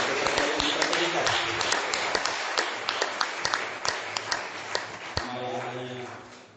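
An audience at a lecture and gathering applauds in welcome, dense clapping that thins into sparse individual claps, while a voice keeps speaking over it, fading toward the end.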